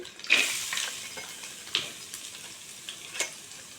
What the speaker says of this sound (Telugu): కొంచెం కొత్తిమీర వేసి కొంచెం ఫ్రై అవ్వనివ్వాలి